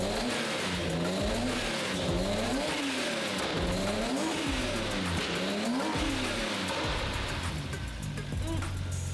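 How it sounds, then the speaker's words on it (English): Car engine running after a restart with a misfire and rich fuel condition, a continuous loud rough drone with rhythmic surging pitch cycling throughout. "we got it started up again, still misfired"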